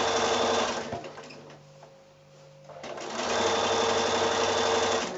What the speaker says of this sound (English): I'm just sewing quite close to that fold